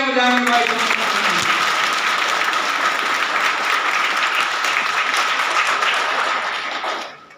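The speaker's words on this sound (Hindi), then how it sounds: "जोरदार तालियां बजाएंगे वाइस चांसलर।" Loud, sustained applause from a university audience greeting the vice chancellor, the guest of honour at a department function; dense clapping runs steadily over a voice at the start, then fades out at the end.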